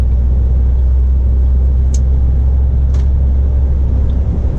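A refrigerated truck rolls along a road toward Rennes, a steady loud low engine and road rumble holding throughout, with a couple of faint brief clicks above.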